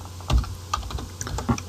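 A computer keyboard being typed on up close, a quick uneven run of several crisp key clicks and taps with no talking.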